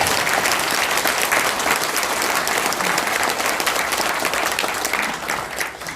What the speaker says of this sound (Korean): 박수 한번 세게 치십시오.